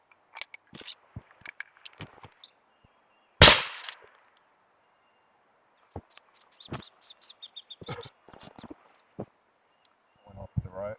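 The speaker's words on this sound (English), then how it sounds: "My first shot with the M17, and I'll be shooting from 10 yards away." A single sharp crack from a Valken M17 less-than-lethal pistol fired at a target ten yards away, loud and brief amid quiet outdoor surroundings with faint bird chirps and small clicks.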